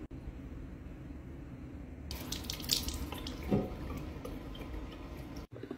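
Bathroom tap water running steadily into a sink while face cleanser is rinsed off, a continuous close splashing rush with small spatters and no talking.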